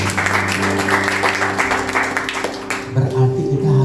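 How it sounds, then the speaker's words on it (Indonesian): Church congregation clapping during a Sunday worship service, a dense wash of applause with overlapping music that fades toward the end. "Kita berikan tepuk tangan."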